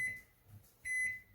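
Two high electronic beeps from a Toshiba ML-EM34P smart countertop microwave keypad as a time is entered, each a short steady tone with a pause between, close and fairly quiet.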